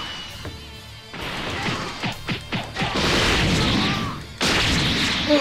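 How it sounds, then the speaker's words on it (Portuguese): Explosions and combat impacts from the fighting game Dragon Ball Xenoverse in a final battle: a burst of sharp crashing hits followed by loud sustained blast roars, no voices over them. "Fui pego por uma explosão!"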